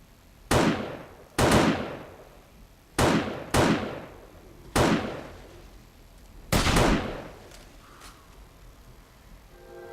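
Gunshots in the zombie survival game 7 Days to Die, six sharp reports spaced a second or two apart, each with a decaying echo tail, loud and close.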